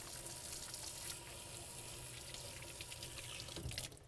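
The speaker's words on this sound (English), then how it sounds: "Let me wash up my hands." Water runs steadily from a kitchen tap into a sink during handwashing, a soft continuous splashing stream heard alone at low level.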